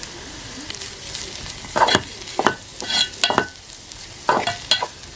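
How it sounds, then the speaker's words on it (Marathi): Masala paste sautés with red chili powder and turmeric in a pan over a wood-fired stove for a wild mushroom sabji, giving a soft steady sizzle broken by about six sharp scraping stirs, with no voices. "वाटण परतून घेतलं आता लाल तिखट आणि हळद घालूया"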